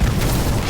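The Incendio fire spell cast in the video game Harry Potter Magic Awakened, heard as a single short, loud, booming blast with a deep low rumble.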